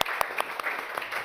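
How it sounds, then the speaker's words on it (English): Moderate applause from a small gathering at an open house talk, with distinct individual claps popping through a continuous clapping wash. The applause stays fairly quiet and even. "and a round of applause to Edith"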